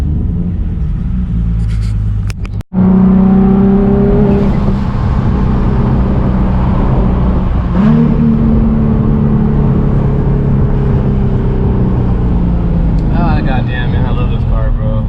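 A race car engine with a two-year-old piston and rod setup drones loudly and steadily from inside the car, its pitch rising and falling as it revs, with a brief sharp knock near the start.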